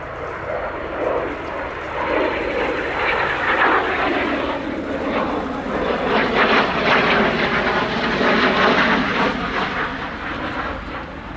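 Messerschmitt Me-262 replica jet fighter, built in the United States, flying at RIAT air show: a loud, steady broadband jet roar that stays strong throughout, swelling slightly as it passes.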